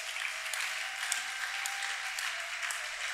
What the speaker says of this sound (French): Est-ce qu'on peut acclamer aussi pour eux?